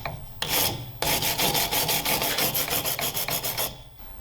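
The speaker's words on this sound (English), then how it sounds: "Now a little bit of wire brush love." A wire brush scrubs a Nissan Skyline HICAS part in brisk back-and-forth strokes, making a close, loud, rhythmic rasping that runs for several seconds after a brief opening stroke.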